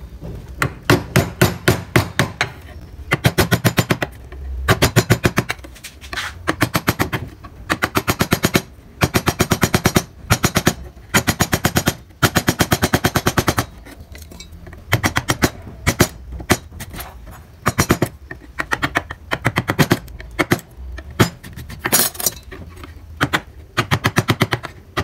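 A gouge chisel tapped with a mallet to carve wood for a relief carving, giving rapid, sharp, loud knocks in dense repeated bursts separated by short pauses, close up and with no talking.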